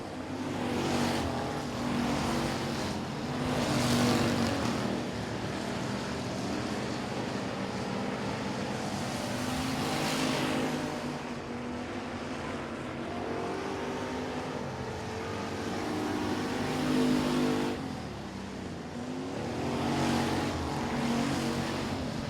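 Race cars lap a heat race at Sabine Speedway with a continuous roar of engines that swells and fades as the field passes, steady and moderately distant.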